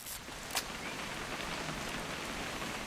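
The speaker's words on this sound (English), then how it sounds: "It's gonna rain the whole weekend," Steady rain hisses evenly throughout in the video game What Remains of Edith Finch, with a brief louder splash near the start and no voices.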